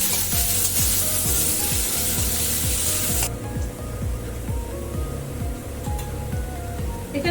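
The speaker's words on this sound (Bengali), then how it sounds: "এটা একটু ভাজা ভাজা করে নেবো পেঁয়াজটাকে" Two medium onions, chopped, fry in a pan for a Bengali dhaba-style egg curry, giving a steady, loud sizzle with hissing crackle throughout, no talking over it.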